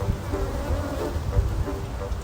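A dense, steady buzzing of many honeybees, close and continuous, with no voices.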